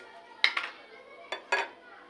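A metal spoon adding sugar to a milk and mango dessert, clinking sharply against the dish in a few light taps, close and quiet.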